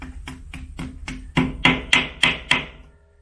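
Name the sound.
hammering a wooden plug into a hole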